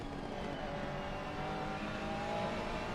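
A Ferrari 296 race car circuits Bathurst's track, its engine a steady, continuous roar held at close range for the full stretch, with no voices over it.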